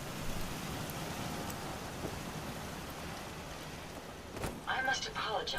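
Steady rain hiss in the video game Fallout 4: Far Harbor fills the whole stretch at a soft, even level, with a voice breaking in briefly near the end.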